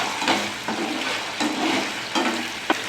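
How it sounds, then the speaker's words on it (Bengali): Sauce for chicken 65 being stirred in a hot pan, a steady sizzle with rhythmic scraping strokes of the spoon repeating every second or so, close and continuous. "ভালো করে নাড়িয়ে নেবো।"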